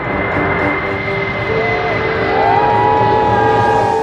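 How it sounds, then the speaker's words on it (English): A Stratolaunch Model 351, a huge twin-fuselage carrier aircraft, drones loudly overhead with a steady engine roar and sustained whining tones that slowly bend in pitch. "this twin fuselage aircraft made its first flight in April of this year"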